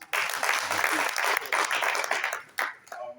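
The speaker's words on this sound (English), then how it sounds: "Applause for him once." A burst of audience applause at a panel event, loud and continuous for about three seconds with brief dips before it fades.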